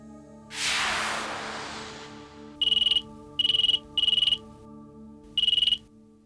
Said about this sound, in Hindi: बेल बज रही है।